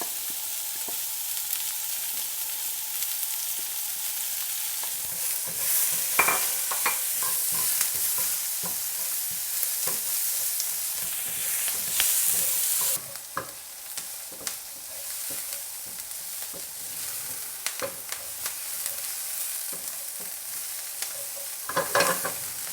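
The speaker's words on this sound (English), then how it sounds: "I'm going to put my onions to cook in that lovely bacon fat" Onions frying in hot bacon fat in a pan, a steady close sizzle with light crackling that runs throughout, with no voices.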